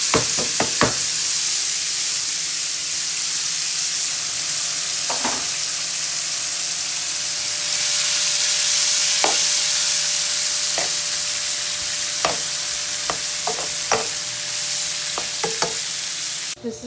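Shrimp fry in a pan with a steady, bright sizzle as a utensil stirs them, scattered knocks and scrapes of the spoon against the pan cutting through the continuous hiss.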